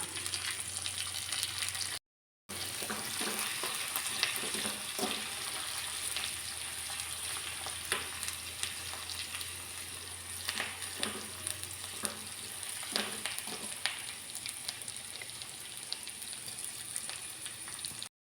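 Green chili, dried chili and curry leaves sizzle in a pan of hot oil for rasam, a steady close crackle with scattered pops and stirring scrapes, briefly cut out near the start.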